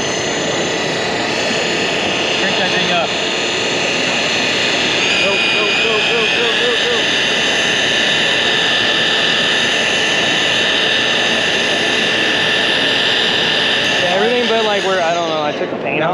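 A Harbor Freight power polisher fitted with a fine polishing pad runs at high speed, giving a loud, steady, sustained whine that holds throughout and winds down near the end, with voices talking over it.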